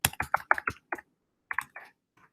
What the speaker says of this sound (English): you go ahead and you type in your student's name